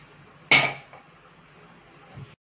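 Metal clank as a kadai is set down or struck near the start, followed by a faint scraping swirl while oil is poured in and spread around the pan, with no talking.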